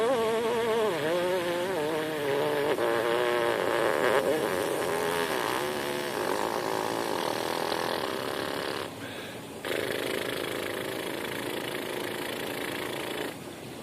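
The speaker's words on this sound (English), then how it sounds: "That was actually a triple pedal C lip buzz." A trumpet player buzzes the lips into a mouthpiece down at a triple pedal C, producing a sustained, wavering, insect-like buzz that runs almost unbroken for several seconds with one brief break.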